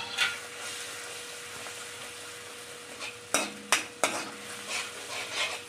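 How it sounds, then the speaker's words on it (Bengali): Spice paste frying in a pan for jhal potol, a quiet steady sizzle broken by a few sharp clinks of a spoon against the pan. "মশলাটা একটু ভেজে নিই।"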